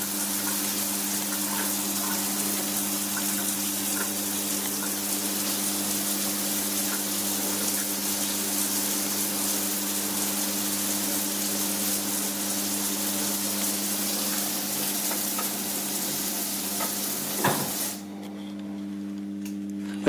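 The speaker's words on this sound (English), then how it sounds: "I'll now nip off and switch on the water." Shower water running steadily after the supply is switched back on, a continuous broadband hiss with a humming pump tone, ending abruptly with a clunk near the end.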